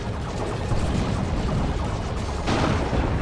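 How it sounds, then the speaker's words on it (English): D-cannon shots in the Warhammer 40k game Dawn of War 2 sound as dense, continuous booming and crashing explosions amid heavy battle noise, loud and unbroken. "D-cannons messing up those Terminators."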